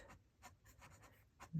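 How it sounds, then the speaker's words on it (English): A fountain pen nib writing on paper: faint, close scratchy strokes in several short bursts over a quiet background, with no talking. "This nib writes"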